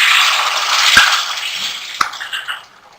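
Water poured into cooking semolina halwa in a pan, a short hissing, sizzling gush that fades away with a couple of clinks.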